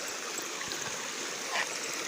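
Spring water in a village streams steadily nearby, a continuous bright rushing flow with a faint splash partway through and no voices.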